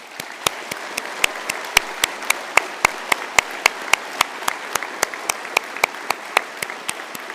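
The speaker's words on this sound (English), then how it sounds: "with a warm round of applause." A large audience at a university conferring ceremony applauds steadily, the clapping dense and even, with sharp individual claps standing out over a continuous wash of hands throughout.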